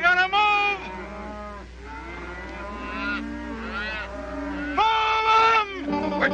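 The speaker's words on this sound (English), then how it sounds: "We're driving the cattle across." A cattle herd driven down a hill bellows and bleats in overlapping calls, several animals lowing and crying in succession with brief pauses, fairly close over a low rumbling background.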